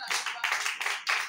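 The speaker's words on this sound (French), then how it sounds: "Applaudis pour le Seigneur." Church congregation clapping in praise to the Lord, a few rhythmic bursts of hand claps about every half second, fairly close and lively, with no voices over them.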